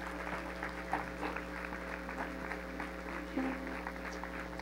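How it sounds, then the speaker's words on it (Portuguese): Audience applause at a church gathering, a dense continuous patter of clapping at moderate distance over a steady low hum. "Dá uma salva de palmas para Jesus"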